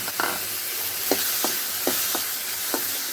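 Steady sizzling of chopped tomato, asafoetida and turmeric frying in hot oil for rasam, with a few soft stirring scrapes scattered throughout, close and continuous.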